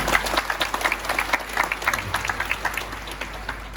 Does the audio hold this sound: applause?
yes